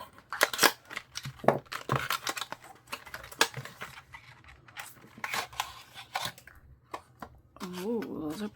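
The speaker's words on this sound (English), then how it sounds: "Grab some scissors." Rapid snipping of scissors, a string of crisp close clicks and cuts in irregular bursts, with a voice speaking briefly near the end.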